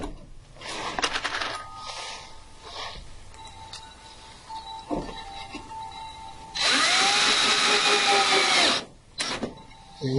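A power drill drives screws into cedar wood for a bird feeder house, with short whirring bursts, a few knocks and clatters, then a long loud whine of the screw biting in before it stops, close up.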